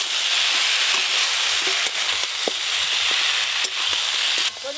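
Fried bhetki fish bones being stirred into cooked-down masala in a hot pan, giving a steady loud sizzle with scattered scraping clicks of the spoon throughout, no voices.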